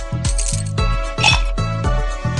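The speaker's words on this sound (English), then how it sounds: "And drop in some ice cubes." Several bright clinking ice cubes drop into a tropical drink glass in a video game in quick succession, each with a short rattling bounce, set against a steady synthetic musical backing.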